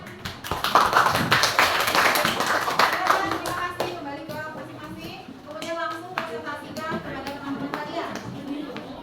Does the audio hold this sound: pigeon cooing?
no